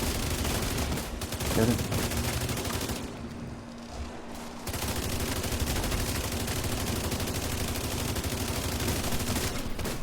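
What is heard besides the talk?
gunshots from a video game (Roblox Murder Mystery)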